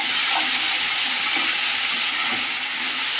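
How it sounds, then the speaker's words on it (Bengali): Papaya and potatoes fry in a pan while being stirred, giving a steady, close, loud sizzle and hiss throughout, with faint scraping pulses from the stirring and no talking. "পেঁপে আলু কষিয়ে নিচ্ছি ভালো করে"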